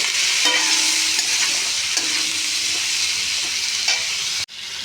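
Fish frying in a pan with eggplant and potato, seasoned with salt and turmeric: a steady, loud broadband sizzle with occasional spatula scrapes and stirring, cutting off abruptly near the end.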